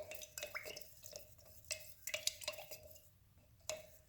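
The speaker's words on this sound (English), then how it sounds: "Give it a good stir." Grey wash paint mixture being stirred for whitewashing wood, with repeated soft clinks and scrapes of a stirrer against a container, irregular and close, no speech.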